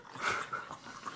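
A dog gives a brief, faint whimpering growl, soft and somewhat distant, alone without talk.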